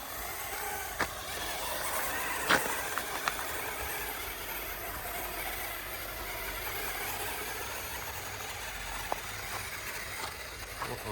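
A RocHobby Kommanderwagen RC truck grinds steadily up a wet dirt hill, its motor hum constant and moderately loud, broken by a few sharp ticks and knocks, with no talking.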